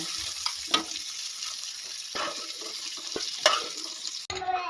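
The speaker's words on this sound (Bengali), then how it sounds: "এবারে ফুলকপিগুলো একটু লাল লাল করে ভেজে নেবো" Cauliflower pieces fry in oil with a continuous hiss and crackle, a few stirring knocks rising above it, close and moderately loud with no talking.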